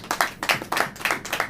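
A church congregation claps along in quick rhythmic bursts during a Hindi sermon, several loud rounds of hand claps close by with no speech over them.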